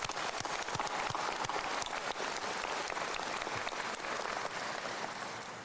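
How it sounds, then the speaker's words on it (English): A commencement audience applauds steadily for several seconds, a dense, crackling wash of many hands that holds level and then eases off slightly at the end. "Round of applause for them."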